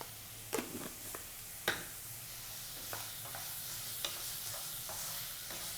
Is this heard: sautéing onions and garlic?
yes